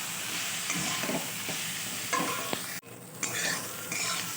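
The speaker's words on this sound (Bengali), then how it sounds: "নিম পাতা ভাজাটা আমার কমপ্লিট দেখো পাতাগুলোও বেশ সুন্দর পুরোপুরি ভাজা হয়ে গেছে" Neem leaves and pumpkin fry in a pan with salt and turmeric, a continuous close sizzle broken by scraping stirs and a few sharp spatula clicks against the metal.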